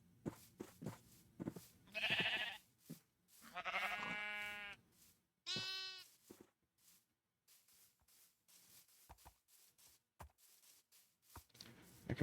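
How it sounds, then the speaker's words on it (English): Sheep in the Minecraft video game bleat in several separate, wavering calls spread across the clip, fairly close and clear, with quiet gaps and faint clicks between them. "Hello, more sheep."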